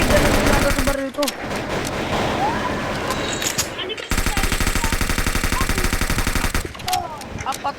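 Rapid automatic gunfire from the online shooter game Beng Beng rattles in long, dense bursts, loud and close, broken by a short pause, while players talk over the shooting.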